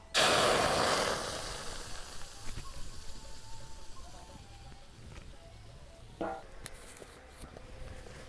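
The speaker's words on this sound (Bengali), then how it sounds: "এবার আমি এই ছেঁকে রাখা আমের কাঠটা কড়ার মধ্যে দিয়ে দেব।" Strained raw mango pulp is poured into a hot wok, setting off a loud burst of hissing steam that fades into a lower, uneven sizzle with a few faint clinks.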